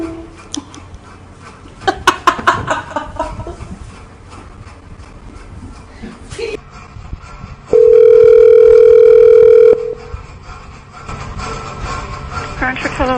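A telephone line after a call is hung up: clicks and handset rustle, then a loud steady tone holding for about two seconds before cutting off, followed by faint line noise and more clicks.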